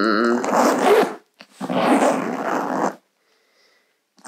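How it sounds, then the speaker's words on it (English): Zipper on a Furla Fantastica dome bag is pulled open and shut in two quick, close, scratchy runs, each about a second long, separated by a short pause, with no talk. "is the zipper test"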